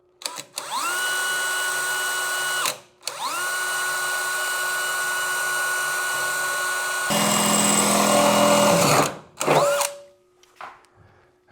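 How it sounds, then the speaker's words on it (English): A power drill bores a 3/8 inch hole for a bolt through the transmission tunnel of a Factory Five MK4 Roadster kit car, a close, loud sustained whine that pauses, restarts and rises in pitch and grit as the bit works through. "So I'm just going to start mine with a 3/8."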